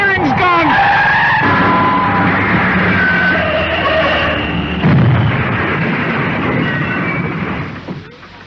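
An old, worn-out car skids out of control as a radio drama sound effect, with a long, loud tyre screech mixed with rumbling engine noise and a heavy thump partway through, sounding close.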